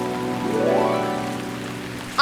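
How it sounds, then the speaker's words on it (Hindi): Steady rain falls on an outdoor surface, a soft continuous patter under a sustained musical tone, with no talking. "आंखें बंद करके बारिश को महसूस करो"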